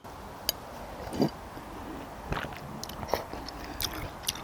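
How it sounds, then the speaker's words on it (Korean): Close-up chewing of a cabbage dish with soft wet smacks and a few crunchy bites scattered across the clip, no talking. "너무 맛있으니까 쩝쩝 소리 더 나는 것 같아"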